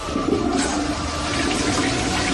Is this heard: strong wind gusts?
no